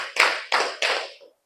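Three crisp hand claps at a steady pace, close and loud, followed by a faint fourth tap, from an ice-breaking group clapping game.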